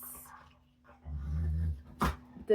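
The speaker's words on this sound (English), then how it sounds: "my dog's gonna start getting crazy" A dog indoors gives a low rumbling whine, then two short, sharp barks close by in quick succession, with a faint steady hum underneath.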